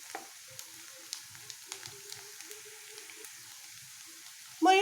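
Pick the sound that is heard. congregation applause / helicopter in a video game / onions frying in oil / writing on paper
onions frying in oil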